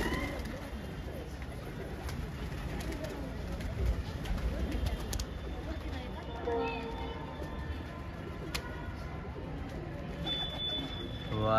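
Patiala pigeons coo in soft repeated bursts at a rooftop flying match, with background voices and general outdoor noise throughout.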